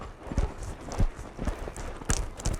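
Horse jogging in a western dressage arena, a steady rhythm of soft hoof thuds on arena footing, fairly close and continuous with no talk.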